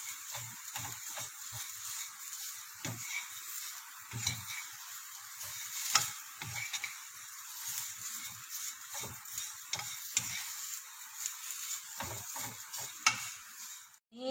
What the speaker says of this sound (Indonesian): kita masukkan sosisnya. Ini ditumis sesaat.